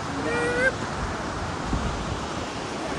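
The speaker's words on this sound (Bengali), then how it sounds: "আর অসম্ভব হাওয়া দিচ্ছে" Strong wind blows across a hanging bridge as a steady, loud rush of broadband noise. Brief tonal sounds come through near the start.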